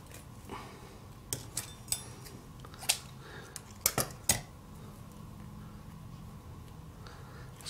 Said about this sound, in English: So just get some scissors.